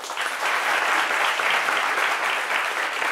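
A studio audience at a midday TV talk show gives sustained, loud applause, an even wash of many hands clapping that continues for a few seconds with no one talking.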